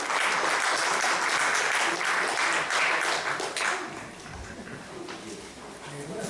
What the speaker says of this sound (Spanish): Fuerte aplauso y damos inicio a este evento.